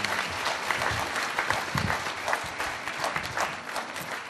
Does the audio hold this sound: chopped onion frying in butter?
no